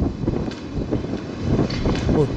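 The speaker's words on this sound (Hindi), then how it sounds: "जैसा कि आप सुन सकते हैं, यहाँ बहुत तेज हवा चल रही है" Strong wind buffets the microphone on the open deck of the cruise ship Carnival Conquest, a steady rushing roar with gusts throughout, mixed with faint background voices.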